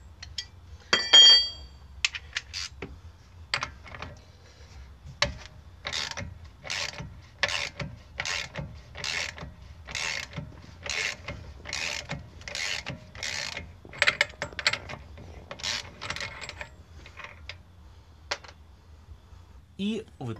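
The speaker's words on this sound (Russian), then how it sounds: "Скручиваем гайку." Ratchet wrench unscrewing a nut on the driveshaft of a BMW E46, a steady run of about a dozen quick clicking bursts, close and fairly loud, with brief scattered metallic clinks around it.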